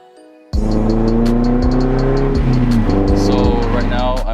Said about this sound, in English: I drive a 1995 Nissan 240SX.